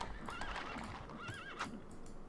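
Horses whinny and neigh among other game sounds during a Rise of Nations real-time strategy battle between cavalry units, with rising and falling calls standing out over steady clatter and hooves.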